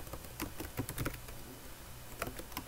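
Keys clatter on a computer keyboard while numeric data is entered, in quick bursts of close clicks with short pauses, alone without speech.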